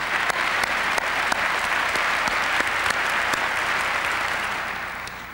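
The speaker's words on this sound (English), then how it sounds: "let's give each other a big round of applause" A conference audience in Cincinnati, Ohio, in 1990 applauds with steady, dense clapping from a large crowd, held at full strength and then fading out toward the end.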